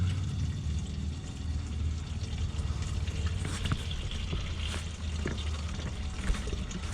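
Old gasoline drains from a small engine in a thin, continuous trickle over a low steady hum, faint and unbroken throughout.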